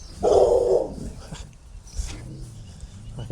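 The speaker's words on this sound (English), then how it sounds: "Ah, two next door's dogs, plural." Two neighbouring dogs give a short burst of barking up close, followed by quieter scuffling and a low muffled voice.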